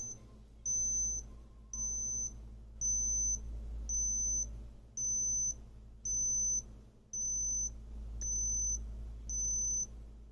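A digital thermometer gives about ten evenly spaced, high, clear beeps in a steady rhythm, close and alone over a faint low hum.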